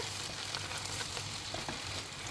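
Chopped tomatoes stirred quickly in a hot pan, a steady close sizzle with soft scraping and light taps from the stirring.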